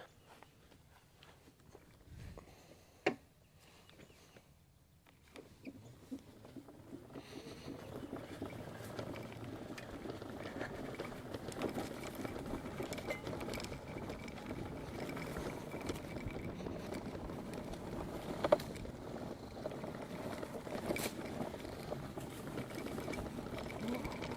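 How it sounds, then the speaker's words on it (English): An EGO 56V electric mini bike, the MB1000, rides in sport mode. A steady, low electric whir builds and holds, with faint mechanical rattles over outdoor background noise. "we twist the throttle, and the unit will just take off"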